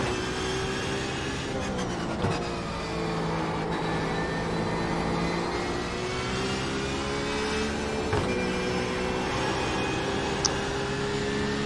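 Porsche 911 RSR race car engine in the iRacing simulator at Spa during an IMSA multi-class race, a sustained droning engine tone rising and falling through gear changes, heard alone without talk.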